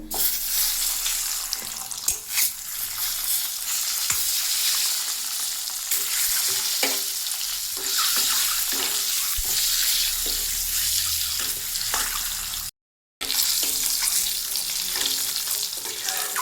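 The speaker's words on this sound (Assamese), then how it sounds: "মই এতিয়া ডিমখিনি ভাজি ল'ম।" Eggs seasoned with salt and a little turmeric sizzle steadily in hot oil, a dense, continuous crackle with scattered clicks of a utensil, broken by a brief silent gap near the end.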